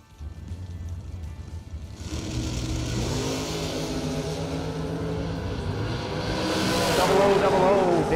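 Two drag racing cars, a white Chevy II wagon and a 1990 Mustang, rumble at a bracket meet with a steady loud engine roar that builds and swells toward the end, while an announcer talks over it.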